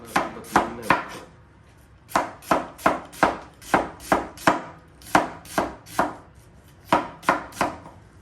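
A knife chops through onions on a board in a steady run of crisp, evenly spaced strikes, close and distinct, slicing them thin for crispy onion vada.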